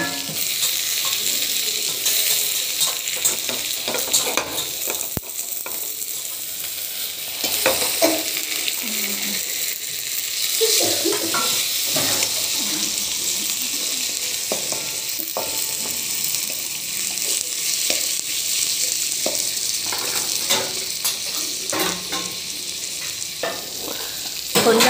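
Tomatoes fry and sizzle in a pan for a ridge gourd and cucumber chutney with peanuts and sesame, a steady dense crackle with intermittent stirring scrapes, close and fairly loud throughout.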